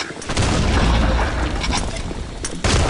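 A loud, booming gunshot in a competitive shooter match, landing as a headshot amid dense, continuous battle noise with a sharp crack near the end.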